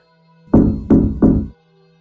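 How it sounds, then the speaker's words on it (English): Three soft knocks land on a wooden wall in quick succession, each a dull, hollow thud with a short decay, heard close and alone against a quiet low hum. "Then came 3 soft knocks."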